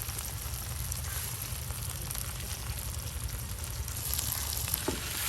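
Flat beans fry in plenty of oil in a pan, giving a steady, close, dense sizzle and crackle that holds evenly throughout with no talk.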